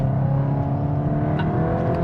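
Steady engine drone from a VW Golf GTI Clubsport 45 Edition driving in Nurburgring mode, a constant loud hum with a faint higher whine, no speech over it.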